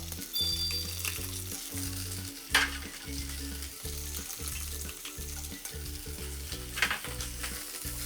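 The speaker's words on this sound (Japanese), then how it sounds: "にんにく生姜入れたら全体合わせていきます" Garlic and ginger stir-frying in a hot pan for shrimp chili, a steady close sizzle with spatula scrapes and two louder clatters, no voices.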